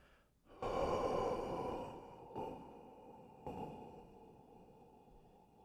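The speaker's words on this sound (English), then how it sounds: "then pause, and then do your nice long exhale" A slow breath drawn into the upper chest, followed by a long, soft exhale that fades gradually, with two fainter breath pulses after it, close and quiet with no talking.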